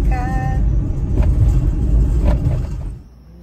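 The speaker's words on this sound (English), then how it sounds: "And we're still driving." A car rolls along a bush track at night, a loud low rumbling engine and road noise close inside the cabin, steady with a few bumps before fading out near the end; a brief voice at the start.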